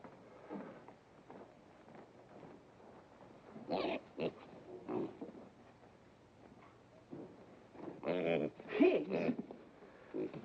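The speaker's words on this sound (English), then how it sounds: "Pigs?" Several pigs oink and grunt in bursts, louder toward the end, over a steady low background hum with a voice speaking at times.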